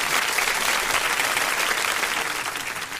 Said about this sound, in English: First, a round of applause.